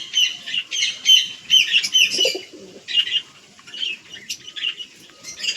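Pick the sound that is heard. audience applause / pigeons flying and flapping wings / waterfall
pigeons flying and flapping wings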